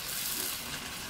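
Sliced sausage fries in hot oil at a Malaysian food stall during Hari Raya, giving a steady, close, even sizzle with no voices over it.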